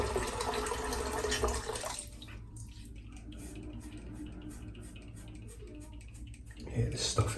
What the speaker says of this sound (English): let's just add a little bit of water.